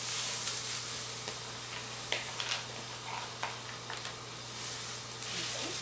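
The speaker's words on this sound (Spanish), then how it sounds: "Vamos a asar las semillas." Pumpkin seeds roast on a hot comal over a low flame, giving a soft continuous sizzle and hiss with scattered small ticks and pops, close and steady, with no talk.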